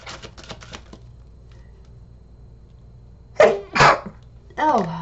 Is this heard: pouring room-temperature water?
no